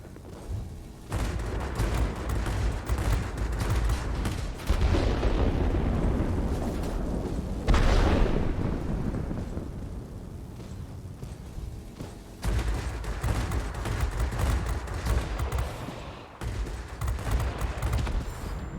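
Rapid bursts of aircraft machine-gun fire during a dogfight in World of Warplanes, with Japanese Army Air Force fighters, loud and dense with engine roar, several sustained volleys separated by brief lulls.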